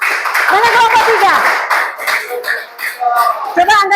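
A class in Indonesia claps together for group 3, a burst of dense clapping under a teacher's voice, with talk and chatter continuing loudly over and after the clapping.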